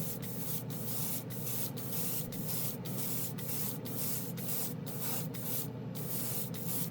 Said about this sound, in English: So I'm going to mist on a coat. All right, put the airbrush down.